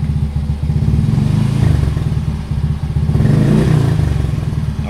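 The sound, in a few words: motorcycle engine being revved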